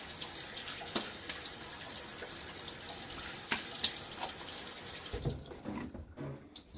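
Water runs steadily from a tap into a sink as a face is wetted before a shave, a continuous close splashing hiss with small irregular splashes, tapering off near the end.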